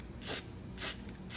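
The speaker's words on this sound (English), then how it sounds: "weldable primer here, so we're gonna spray that down." Zinc weldable primer is sprayed onto metal during a frame repair in two short, faint hissing bursts separated by a brief gap, over a low background hum.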